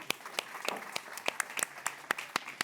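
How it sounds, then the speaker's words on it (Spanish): A few people clap as a film crew makes its exit on the making-of set for DAMA's 'Un nuevo amanecer'. About a dozen sharp, separate claps come in an uneven rhythm over a quiet room. "un aplauso de salida"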